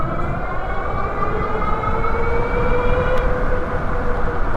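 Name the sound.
AWD Radrover electric bike accelerating on both throttles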